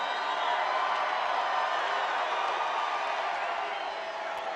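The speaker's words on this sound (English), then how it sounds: "What a crowd." A large crowd at a Donald Trump rally in Fayetteville, North Carolina sends up a dense, sustained roar of cheering that holds steady and loud throughout.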